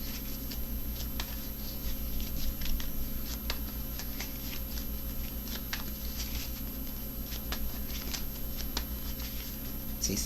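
Tarot cards shuffled by hand before pulling another spread, a steady run of soft riffling snaps and papery patters across the whole stretch, close up and moderately loud with no talking.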